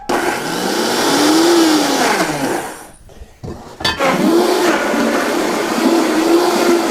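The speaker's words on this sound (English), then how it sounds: "We're gonna need a blender. Add in the onion and the garlic cloves. Blend this up into a paste." A blender blending onion and garlic cloves into a paste runs loudly and close, its motor pitch wavering as it churns, pausing briefly before whirring again.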